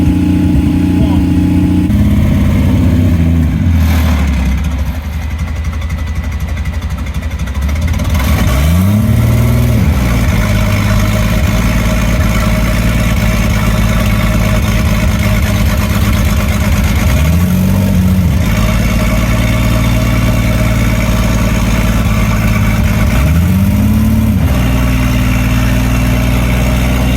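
Turbocharged engine on an Aces Killshot Classic setup that won't settle to idle, running loudly throughout and rising in three distinct revving swells, with a voice talking over the steady drone.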